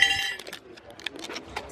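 Glasses clink together in a Christmas farewell toast among friends: several light, quick chinks close by, with a faint murmur of voices behind.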